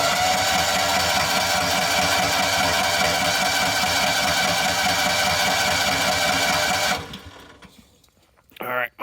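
A small John Deere Gator utility vehicle engine idles steadily and loudly with a fast rhythmic chug for about seven seconds, then cuts out abruptly, leaving quiet room sound and a brief rustle at the end.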